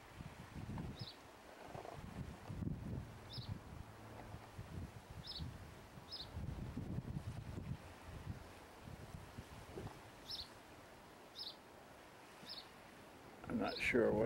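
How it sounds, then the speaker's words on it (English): Steady wind rushes and rumbles against the microphone in Ireland, rising in low gusts, while someone talks and faint high chirps sound intermittently. "Quite windy today. It's the first we've had this much wind."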